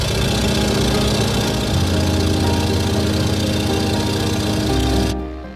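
Steady, loud drone of a Stearman PT-17 biplane's radial engine in Microsoft Flight Simulator, a rough throbbing roar holding close and constant before shifting pitch and fading slightly at the end of the flyby.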